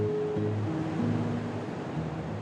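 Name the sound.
huge ocean waves crashing at Nazaré, Portugal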